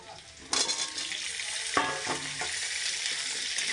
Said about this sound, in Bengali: আলুগুলো নাড়াচাড়া করে একটু লাল লাল করে নেব